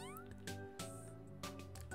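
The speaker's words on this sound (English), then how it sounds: "I see a cat, and I need to go pet it" A cat meows in OMORI, a few short tonal calls over a quiet game music background, close and clear with no talking.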